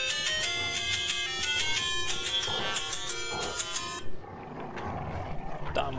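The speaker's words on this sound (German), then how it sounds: "Telefon." A telephone ringtone chimes in a steady repeating melodic pattern for about four seconds, loud over game music and ambience, then stops as someone speaks briefly.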